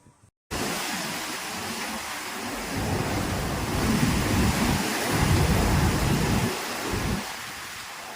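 Heavy typhoon rain and powerful wind from Typhoon Podul in Taiwan roar in as a dense, continuous wash of noise with deep rumbling surges that swell and ease, loud and close after a brief quiet start.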